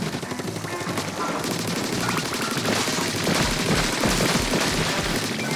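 A Grizzco Brella ink gun fires in Splatoon 3 Salmon Run, producing dense rapid bursts of shots over busy game effects and music, loud and continuous for several seconds.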